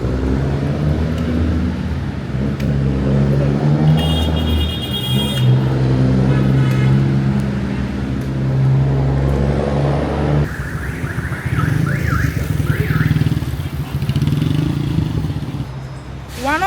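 Street traffic in the Dominican Republic, with cars and motorcycles rumbling and droning past continuously, engines rising and falling, plus a brief high tonal sound and near passes, with some talk in the mix.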